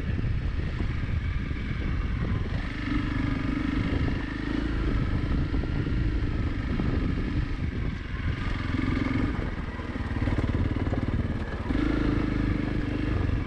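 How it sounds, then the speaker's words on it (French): A 2023 Honda CRF300 Rally motorcycle rides slowly over a rocky trail strewn with large stones, its engine droning steadily up close with wind buffeting and clattering from the tyres over rock. "maintenant je roule déjà beaucoup moins vite parce que mes pneus font de gauche à droite parce que j'ai des gros cailloux"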